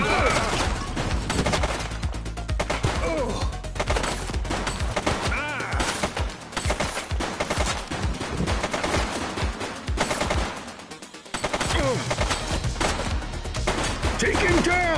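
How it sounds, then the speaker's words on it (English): Rapid bursts of gunfire from a police shootout in The Precinct, loud and nearly continuous for most of the stretch with a short lull, plus some voices mixed in. "She's shooting!"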